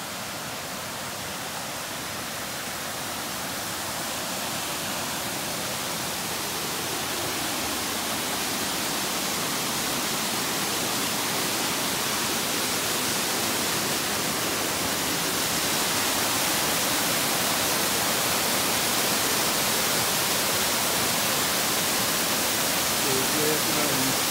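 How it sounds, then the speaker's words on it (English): A waterfall in the Smoky Mountains, just beside Highway 64, roars in a steady, unbroken rush of broadband water noise that grows slightly louder over the stretch, with no voices present. "And I found a really cool waterfall."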